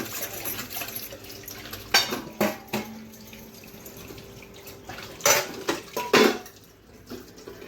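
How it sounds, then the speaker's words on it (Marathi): Utensils being washed under running tap water, with a steady trickle broken by several sharp clanks and clatters of metal pots and dishes close by, no talking. "आता भांडे धुवत आहे."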